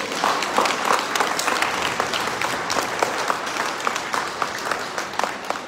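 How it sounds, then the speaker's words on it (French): A church congregation at a Sunday Lent Mass applauds the team of parishioners serving the service, giving sustained, even clapping from many hands that fills the room steadily for several seconds. "On peut applaudir toutes ces personnes."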